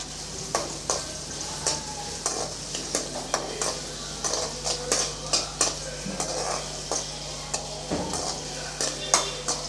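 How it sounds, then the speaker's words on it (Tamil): Chopped large onion sizzles in a pan under repeated sharp clinks and scrapes of a spoon stirring against the metal, steady rhythmic strokes about once a second over a low hum. "இப்போ அதை அதில் சேர்த்துடலாம் சேர்த்து கொஞ்சம் நல்லா வதக்கி விட்டுக்கலாம்"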